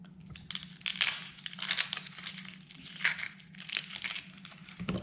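Papery onion skin crinkles and tears in several short bursts as the dry outer layer is peeled off an onion by hand, close up, with a low hum under it and no talking.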